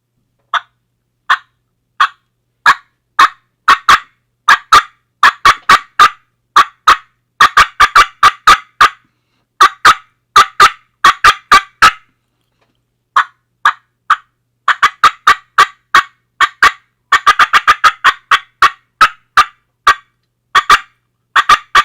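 A turkey mouth call imitates a hen's flydown cackle: sharp clucks start slow and sparse, then quicken into dense rhythmic bursts, loud and close with silent gaps, no talking.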